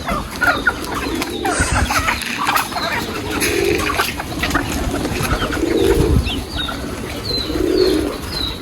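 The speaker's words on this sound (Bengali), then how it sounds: "এই যে মুরগি খাবার নিয়েছি মুরগিকে দিব এখন" Chickens cluck and murmur close by in a busy yard, with scattered pecking and rustling, a few higher chirps, and occasional wing flaps.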